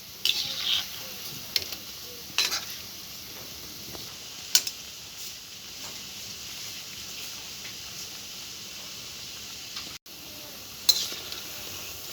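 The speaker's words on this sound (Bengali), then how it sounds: "এবার আমি বড়াগুলো ভেজে নেব।" Palm fruit fritters fry in well-heated oil in a wok, giving a quiet, steady sizzle broken by occasional sharp clinks and stirring taps from a utensil.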